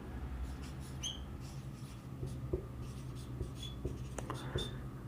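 Chalk or a marker scratches and taps across a board in short, faint strokes with small pauses, heard close in a quiet room.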